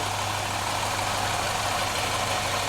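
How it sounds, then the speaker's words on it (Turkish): Rebuilt car engine idling after assembly, a steady even mechanical hum with a constant low drone and no other sounds, close by and unchanging throughout. "ustamızın topladığı araç çok şükür çalıştı ve sesi gayet iyi geliyor bana."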